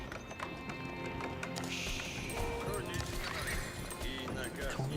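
Yari cavalry horses gallop in Age of Empires 4 amid busy game battle sounds, with rapid hoofbeats and a whinny layered under a commentator's continuous talk.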